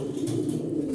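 Yellow Maltese pigeon, a running male of imported bloodline kept in a loft, cooing in a steady low continuous murmur, close and moderately loud, with no talk.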